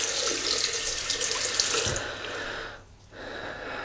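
Tap water running into a sink while a Gillette Tech double-edge razor is rinsed: a steady, close hiss of flowing water for about two seconds, then a quieter trickle as the flow drops and resumes.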